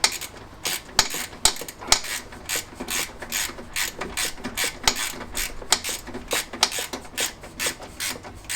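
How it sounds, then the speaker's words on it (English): Ratchet tightening bolts on the engine of a classic Fiat 500, a close, brisk series of metallic clicking strokes in quick rhythmic bursts with no talking. "Start ratcheting that."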